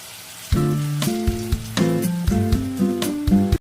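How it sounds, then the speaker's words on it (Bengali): Continuous frying sizzle in a pan, close and even, under a bright melodic music track with a plucked rhythm. "এবার বাকি পনিরগুলো একইভাবে ভেজে নেব"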